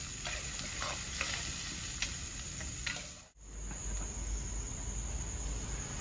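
Onions frying in a pan until browned, a steady close sizzle and hiss with a few scraping stirs, broken by a brief cut partway before the frying carries on.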